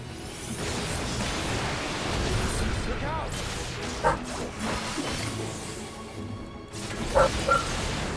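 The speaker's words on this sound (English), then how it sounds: "Ellie, why do you have to bark at like every little thing that passes that bloody window" A pet dog barks in short bursts at something passing a window, a couple of sharp yips standing out over a steady background hum.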